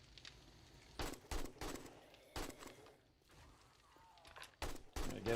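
Bursts of gunfire in the zombie survival game 7 Days to Die, rapid sharp shots in short clusters with brief gaps, some louder than others, over a low background.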